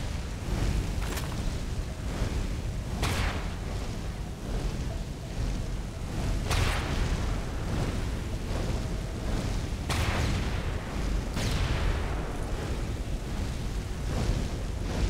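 Video game explosions, several heavy booms in irregular succession over a dense, constant rumbling battle din, loud and without voices.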